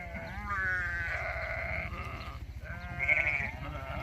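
Sheep and lambs bleat on a farm in Ireland during shearing time, with several overlapping calls near and at middle distance above a steady low hum of background machinery.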